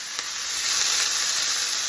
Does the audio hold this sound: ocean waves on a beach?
no